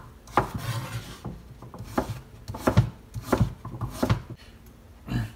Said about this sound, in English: Now I'm just going to slice it into cubes.